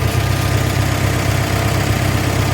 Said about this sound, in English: That's slow she'll idle.